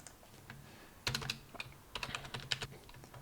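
Quick bursts of key clicks as a password is typed on a computer keyboard, close and clear, with irregular clusters of keystrokes and short pauses between them; no voices.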